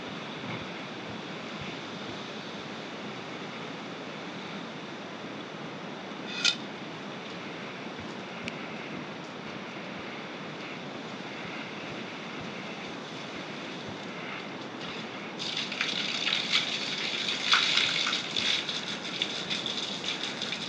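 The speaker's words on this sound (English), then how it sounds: "I just hit it real quick without the nozzle. It's a real big flow of water." A garden hose without a nozzle sprays a big flow of water over a motorcycle, a steady broad hiss and patter that grows louder and splashier toward the end.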